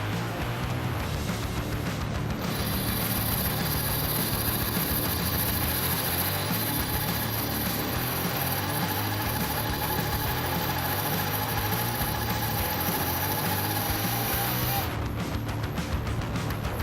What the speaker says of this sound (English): Massive circular saw blades spin rapidly, slicing through it effortlessly like a knife through butter, leaving behind clean, sharp cuts.